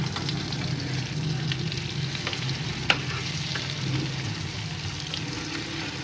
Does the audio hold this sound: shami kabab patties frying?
yes